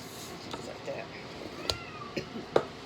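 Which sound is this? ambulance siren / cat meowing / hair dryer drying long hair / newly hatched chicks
cat meowing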